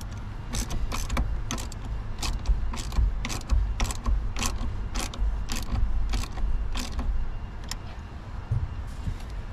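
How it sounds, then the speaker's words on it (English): A ratchet wrench with a 10 mm socket tightens the negative battery cable nut on a 2015-2022 GMC Canyon or Chevy Colorado, clicking in quick repeated strokes close up, with pauses between bursts. "we just gotta tighten it down with a 10 mil"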